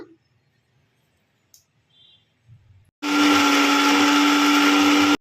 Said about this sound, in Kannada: ಇವಾಗ ಇದನ್ನೆಲ್ಲ ಒಂದು ಫೈನ್ ಪೇಸ್ಟ್ ಮಾಡ್ಕೊಳ್ಳೋಣ